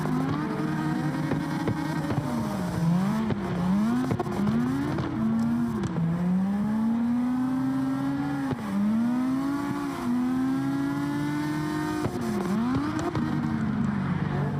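Race car engine on a downhill run, revving and dropping repeatedly as the front brakes lock and the car spins; loud and continuous throughout, with no talk.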